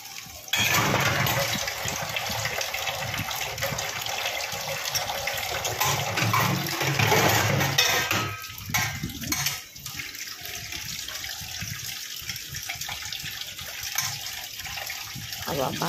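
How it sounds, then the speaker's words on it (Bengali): Dishes and utensils washed by hand in a small cramped space, with water running and splashing steadily and close throughout, plus some clinking and scrubbing mixed in. "আবার বাসন মেজেই চলেছি, এখনো মাজা শেষ হচ্ছে না"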